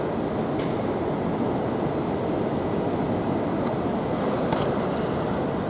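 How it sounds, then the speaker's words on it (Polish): Steady loud rumble of a train at Berlin's main railway station, continuous rolling noise with faint high squeals, no voices. "na dworcu głównym w Berlinie i czekam na pociąg do Germunde"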